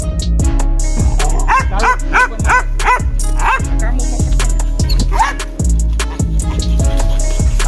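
Several hunting dogs bark and yip repeatedly outdoors, loud and close, with overlapping bow-wows and an occasional whimper continuing throughout.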